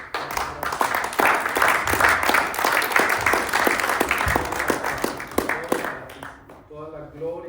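A church congregation claps at the close of a course, a lively burst of close applause with audible individual claps that tapers off, followed by a few spoken words at the end.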